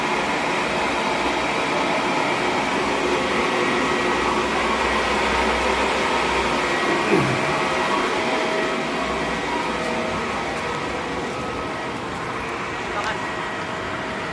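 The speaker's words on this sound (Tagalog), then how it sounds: "Malakas na talaga yung vacuum, no?" A pool vacuum running at an infinity pool gives a steady, loud broadband hum and whir that holds through the whole stretch with little change, easing slightly toward the end. People talk faintly over the noise.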